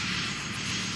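Steady helicopter engine drone with a broad, even whine, moderately loud and continuous, no voices.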